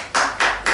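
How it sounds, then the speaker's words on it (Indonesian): Three short bursts of hand clapping from a small podcast group after a talk on reptiles, each burst swelling and fading quickly, close and fairly loud with no voices. "Kita tepuk tangan dulu dong."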